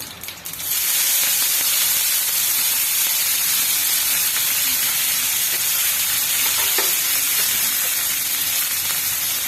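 Chopped curry leaves hit hot oil and burst into a loud, dense crackling sizzle that holds steady and close after a brief quieter start.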